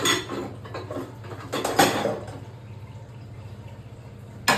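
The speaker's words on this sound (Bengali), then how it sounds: "চিকেন পকোড়া হবে, তার জন্য কড়াইটা বসাবো।" A metal kadai clanks and scrapes as it is set onto a stove for chicken pakora, a few close knocks early on, then a low hum, ending with a sharp clatter.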